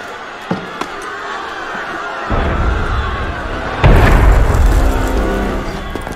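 Cannon fire in the Assassin's Creed Unity game during a prison uprising, two heavy booming blasts that step up into a loud rumbling roar with crowd noise beneath.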